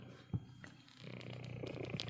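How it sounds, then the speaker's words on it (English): A pet cat purrs softly and close by, a low continuous rumbling flutter with a couple of faint bumps, quiet and alone without speech. "Listen to those purrs."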